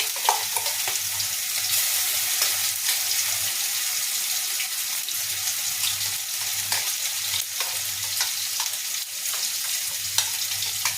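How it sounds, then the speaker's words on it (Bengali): Potatoes fry in a pan with a steady sizzle that runs throughout, broken by a few sharp stirring clatters, while a low hum comes and goes underneath; no one speaks. "আলুগুলো প্রায় ভাজা হয়ে এসেছে"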